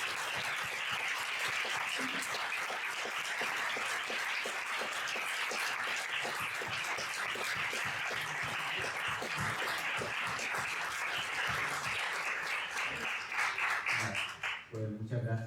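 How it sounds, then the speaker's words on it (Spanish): Audience applause at the close of a Spanish-language conference on consciousness and happiness: steady, dense clapping from a sizeable crowd that holds evenly for about fourteen seconds before thinning out at the end. "quisiera que diéramos un aplauso."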